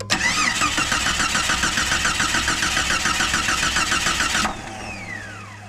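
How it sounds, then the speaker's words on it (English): A car engine on a Ford or Jeep with a suspected bad ignition coil cranks over steadily for several seconds with a rhythmic starter whine, loud and near, then stops and leaves a faint hum. "So I'll crank this thing over."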